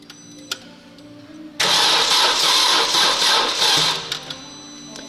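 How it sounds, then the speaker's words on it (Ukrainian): An Opel Zafira engine being treated for heavy oil consumption fires up on its first start after reassembly: quiet workshop ambience gives way to a loud, sudden catch and a rough running roar that fades after about two seconds. "От все зібрав для першого пуску, будемо пробувати зараз запускати."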